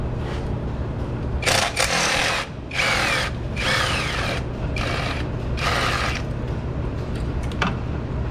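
A 10mm socket on a couple of extensions works a thermostat housing bolt loose on a Honda Accord, heard as several close, loud bursts of rapid ratcheting or power-tool whirring separated by short pauses.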